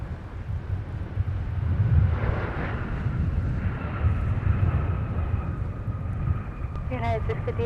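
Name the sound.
Sun Country Boeing 737 airliner arriving at MSP airport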